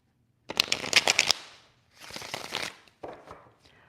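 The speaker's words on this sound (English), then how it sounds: "so we'll shuffle this up." A deck of tarot cards is shuffled in three quick riffling bursts of crisp flutter and slapping, close up and moderately loud with short pauses between.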